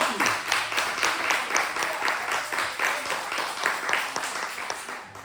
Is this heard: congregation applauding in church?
yes